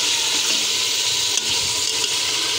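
Ingredients frying in a pan give off a dense, continuous sizzle that stays loud and even throughout, with no talking.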